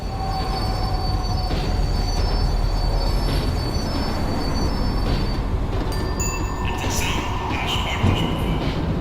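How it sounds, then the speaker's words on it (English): In the video game Max Payne 3, a tram slows down with a continuous heavy rail rumble and grinding wheels, building to higher metallic squeals near the end. "The tram was slowing down"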